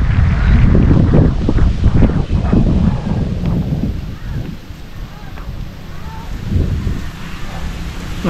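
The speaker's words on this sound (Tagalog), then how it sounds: "lumalakas ang ulan" Heavy rain and gusty wind buffet a microphone outdoors while fishing, a dense, loud rushing hiss with low rumbling bursts that ease slightly midway, then swell again.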